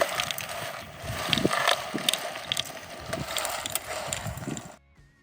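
A garden seed planter for peas rattles along steadily, its chain and rear packing wheel clicking and clattering at close range before cutting off abruptly near the end.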